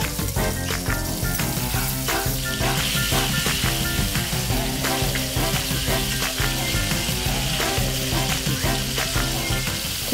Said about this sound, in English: I just stir fry that until the chicken is just cooked.